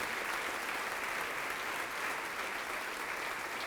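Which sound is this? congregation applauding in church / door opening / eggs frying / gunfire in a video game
congregation applauding in church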